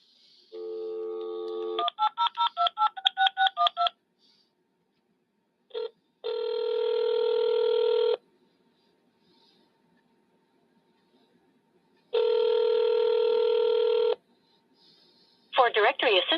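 Telephone keypad dialing tones: a long steady tone, then a quick run of about ten short beeps, followed by longer sustained tones separated by silence and a final cluster of brief beeps.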